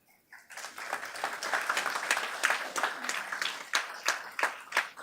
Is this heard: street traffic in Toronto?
no